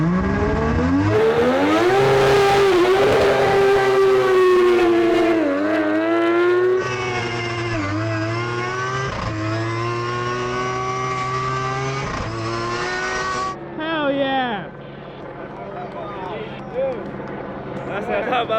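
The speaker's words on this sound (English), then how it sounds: "What a burnout." A Mazda RX-7 race car roars through a burnout, its rotary engine revving hard and sustained with shifting pitch, loud and close, then dropping off to lower revs; voices are mixed in.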